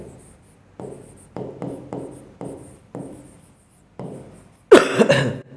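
Pen or chalk writing out a formula in a series of short scratchy strokes, about eight separate bursts with pauses between, ending in a louder rough scrape; no talking.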